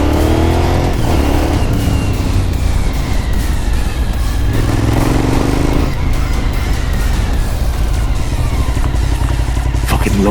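A Suzuki SV1000 motorcycle engine revs loudly and continuously while riding, its pitch rising and falling through the gears, heard up close with wind rush throughout.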